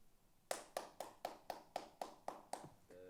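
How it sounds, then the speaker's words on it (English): Clapping at a student expo: about ten separate, evenly spaced claps in a slow, steady rhythm, fairly faint and close, rather than a full crowd's applause. "let's give a warm round of applause for our students and their work"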